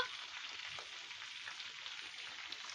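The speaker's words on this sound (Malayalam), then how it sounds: "ഇപ്പൊ കാണിച്ചു തരാവേ ചിക്കൻ ഫ്രൈ ചെയ്യാൻ ഇട്ടിരിക്കുന്നേ" Chicken frying in a pan in a dark kitchen, a continuous bright crackling sizzle that is close and even, with no talking.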